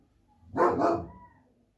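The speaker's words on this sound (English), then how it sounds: "he's barking at the children." A single loud dog bark, close by, with a short double-pulsed sound that fades quickly into quiet.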